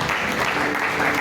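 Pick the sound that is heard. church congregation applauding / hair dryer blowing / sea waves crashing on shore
church congregation applauding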